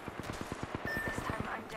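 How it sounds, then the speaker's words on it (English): Rapid automatic gunfire in the video game Apex Legends rattles in a fast, even burst of shots, fairly quiet under a faint high tone, with a brief louder hit at the end. "They're shooting at me."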